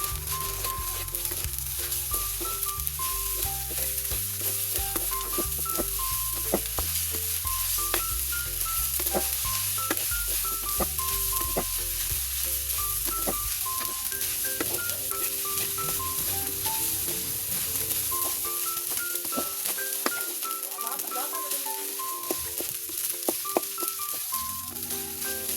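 Fried rice with egg sizzles steadily in a hot pan while being stirred, with repeated scraping and tapping of the utensil against the pan over a constant frying hiss that runs throughout.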